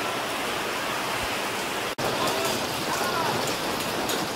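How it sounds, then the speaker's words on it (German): Heavy rain mixed with hail pours down at an outdoor rock festival, a dense, loud, steady hiss of drops on surfaces that cuts out for an instant midway. "Es regnet und hagelt."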